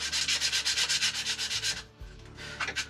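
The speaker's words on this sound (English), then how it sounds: "sandpaper, just to get any, sometimes you feel a ridge where belt sander where you've not spun it right round, so we'll get a little sand up" Softwood dowel hand sanded with sandpaper while boatbuilding, a rapid rhythmic rasping of short back-and-forth strokes, close and fairly quiet, pausing briefly before resuming.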